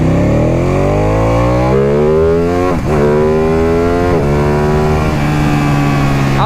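A Ducati motorcycle accelerates hard from first gear, its engine note climbing steeply and loud through a gear change around the third second and another near the fourth, then pulling on with a rising rasp.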